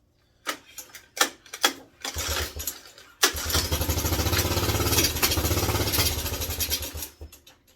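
A Suzuki LT125 ATV, running again after a carburetor swap, sputters through a few rough bursts, then catches and settles into a steady, close, loud idle for several seconds before cutting off.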